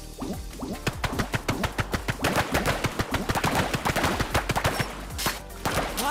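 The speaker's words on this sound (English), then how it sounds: "you should have no problem fighting them off with that assault foam gun" A rapid stream of wet, splattering bursts from an assault foam gun in the Foamstars video game, firing in a fast, slightly uneven rhythm, loud and close, with no voices.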